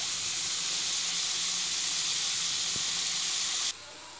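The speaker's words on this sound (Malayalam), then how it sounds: "ഘീ ഒഴിച്ചു കൊടുക്കാം." Ghee poured into a pan of frying carrots, a loud bright hissing sizzle that holds steady and then suddenly drops to a quieter fizz, no talk.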